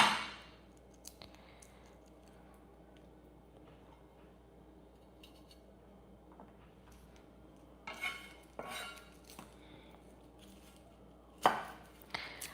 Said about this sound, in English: I'm terrible at cutting garlic, you guys.